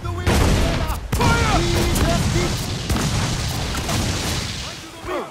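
Ship cannons fire a volley in the video game Assassin's Creed Freedom Cry, with several heavy booms and rumbling blasts spaced across the moment while voices shout over them.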